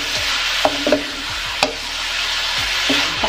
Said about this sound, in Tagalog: Ayan, haluin natin.